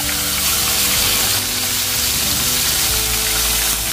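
Fish, including sapsap, sizzling in hot oil in a pan, a loud, steady crackle that carries throughout, with a few low clanks and stirring noises.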